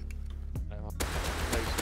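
AK rifle fire in the survival game Rust, a few sharp broadband cracks in the second half of the clip, mixed with busy game noise and a low hum.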